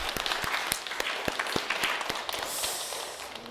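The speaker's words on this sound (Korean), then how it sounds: "고생한 우리 모두를 위해 박수 한번 칠까요?" A Catholic congregation at Sunday Mass in Korea applauds, with steady group clapping in a large room and a few sharper, distinct claps standing out above the crowd.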